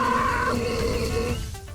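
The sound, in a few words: child burping loudly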